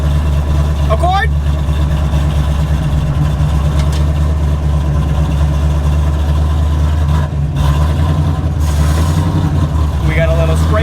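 Rear-wheel-drive Honda Accord with a swapped-in LS1 V8, heard from inside while cruising, a loud constant low engine drone and road rumble.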